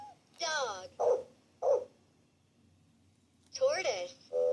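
A pet dog barks close by in several sharp bursts, a cluster of yips early on, then a pause before two more barks near the end.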